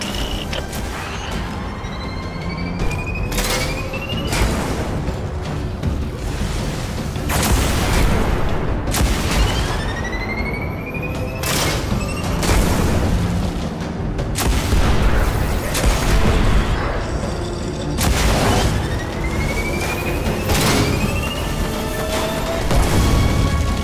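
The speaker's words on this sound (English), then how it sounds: "Scorch cannon. Powerful and very rare indeed." Scorch cannon fire in the video game Halo Wars: a loud, steady run of heavy booming blasts, each followed by rising whistling streaks, repeating every second or two over a constant roar of battle.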